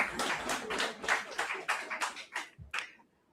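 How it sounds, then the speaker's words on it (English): An audience at an annual general meeting breaks into clapping, a dense burst of claps that thins into a few scattered final ones before fading to quiet. "You can clap also."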